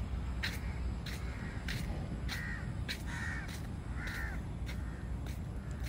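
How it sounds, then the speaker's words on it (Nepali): Crows caw in Malaysia, about ten loud, harsh calls arriving in an irregular series over a steady broadband background hum. "यहाँ त कागै काग।"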